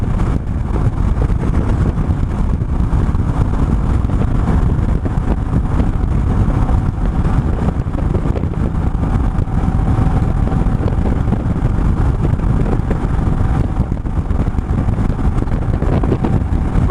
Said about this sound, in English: Definitely a lot of wind buffeting in here